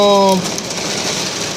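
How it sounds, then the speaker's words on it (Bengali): A heavy hailstorm in Al Qassim, Saudi Arabia, makes a dense, steady hiss and clatter that follows a brief tonal sound at the very start. "প্রচুর শিলাবৃষ্টি সৌদি আরবে, প্রচুর শিলাবৃষ্টি।"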